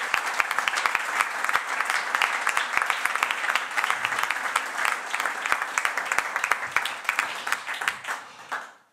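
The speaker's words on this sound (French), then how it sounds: "je vous propose d'applaudir les 6 orateurs." A conference audience gives sustained, dense applause for six speakers at a day of exchange on integrated water management, loud and steady for about nine seconds before tapering off.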